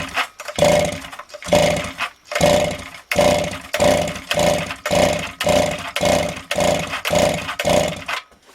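Someone repeatedly pull-starts a Motor Sich 270 chainsaw with an ignition fault, and it never catches. About a dozen evenly spaced, loud rasping cord pulls come in a steady rhythm, with each brief whirr dying away.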